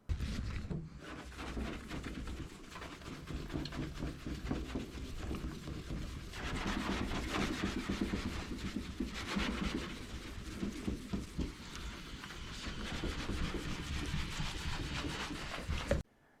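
Continuous gritty rubbing and rasping against contaminated car paint, steady and close, with no pauses and no voices.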